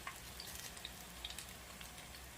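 Carrot, sweet potato and onion fritters fry in a pot of hot oil, giving a faint, steady sizzle with scattered small pops and crackles throughout.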